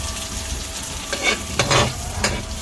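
Garlic, onion and ginger sauté in a pan for a mussel dish, giving a steady close sizzle with a few louder stirring scrapes.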